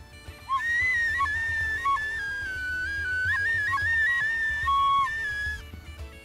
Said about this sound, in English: here I am twiddling on my new penny whistle